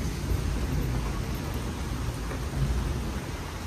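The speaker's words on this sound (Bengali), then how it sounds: "এখন একটু কমেছে বৃষ্টিটা" Steady rain falling in a soft continuous hiss with low rumbling underneath, moderate and even throughout, no voices.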